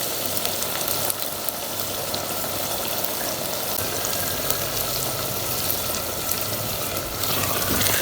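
Onions frying in oil inside a clay handi pot until light brown, a steady close sizzle with crackling spatter that runs on without any talking.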